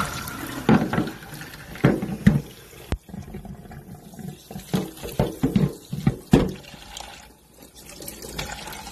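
Water runs from a tap and splashes irregularly into a basin, with clattering knocks and bursts of flow at close range.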